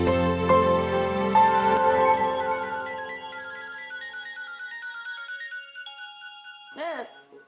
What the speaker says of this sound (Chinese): 等一下啦，有电话啦，说不定是很重要的事情哎。